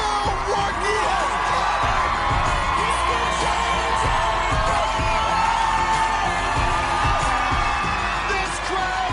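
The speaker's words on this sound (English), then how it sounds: "This crowd is erupting." A large crowd erupts in sustained cheering and whooping at an obstacle course competition after a contestant hits the buzzer in the city finals, loud and continuous with thumping and shouts throughout.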